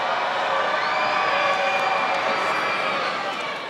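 A standing-room-only crowd at a packed Wolf Gym boys' high school basketball championship, a steady loud roar of cheering and shouting filling the space throughout.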